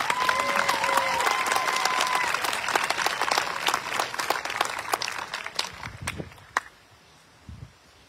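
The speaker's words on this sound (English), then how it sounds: "Now you may applaud." Dense applause from a large audience at a 2023 college commencement, loud and steady at first, then thinning into scattered claps and fading out toward the end, with faint voices underneath.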